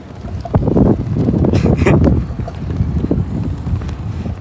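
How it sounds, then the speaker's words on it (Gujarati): Strong wind buffets the microphone while riding a bicycle on a road in Gujarat in the evening, a loud continuous low roar with gusty surges throughout. "મોસમ મસ્ત થઈ ગયો છે, પવન ચાલુ છે. જેમ રાત થતી જાય તેમ પવન વધારે."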